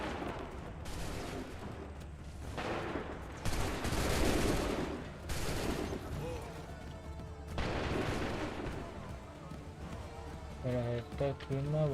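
Soldiers in Assassin's Creed 3 fire muskets on command, several loud volleys and scattered shots booming between shouted orders and talk, with running and battle noise underneath.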